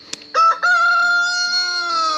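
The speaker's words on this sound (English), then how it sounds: "a rooster's either going off" A rooster crows once in a garden, loud and close, a long harmonic call that holds and trails off, preceded by a brief sharp click.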